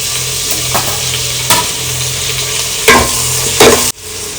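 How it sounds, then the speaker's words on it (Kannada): Roughly chopped tomatoes sizzle loudly in a frying pan for a jackfruit biryani, a steady hiss with a few scraping stirs and clanks, close and without talk. "so I am adding some ರಫ್ಲಿ chopped tomatoes"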